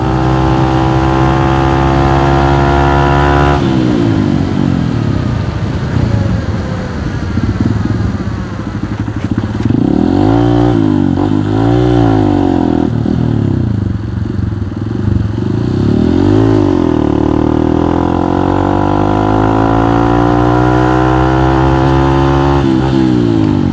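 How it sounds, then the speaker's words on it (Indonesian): Motorcycle engine held loud and close, with a steady throbbing idle that swells into several rising and falling revs before settling back to a continuous rumble. "tapi motor ini doang yang ngegas."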